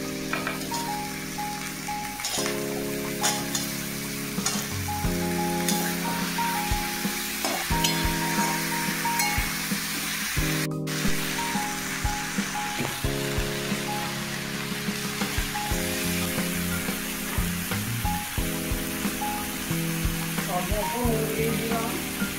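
Vegetables fry and sizzle in a pan while being stirred for a spicy boal fish-head curry, with a continuous close hiss and repeated scraping strokes of the spatula throughout.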